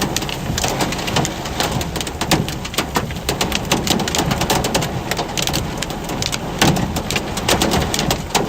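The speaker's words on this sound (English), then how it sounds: "Yeah, we're definitely going to be struck by some hail." Hail and rain pounding a storm chase vehicle in West Texas severe weather, a dense, loud, continuous drumming of hard impacts on the roof and body with no letup.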